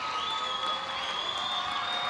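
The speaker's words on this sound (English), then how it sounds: "Husky crowd comes to life" Home crowd at a girls basketball game cheering and applauding, a steady wash of claps and shouts with a sustained whoop or whistle tone running through, moderately distant and continuous.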